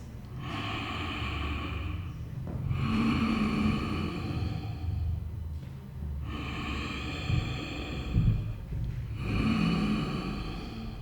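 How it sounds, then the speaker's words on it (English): Slow, steady ujjayi yoga breathing through the throat, with long hushed inhales and exhales alternating in an even rhythm, close and calm, with no talking. "So Ujjayi breath sounds a little bit like a gentle Darth Vader."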